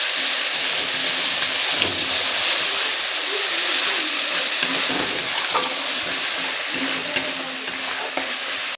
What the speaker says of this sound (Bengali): দিয়ে সুন্দর করে মশলাটা এখন কষিয়ে নেব।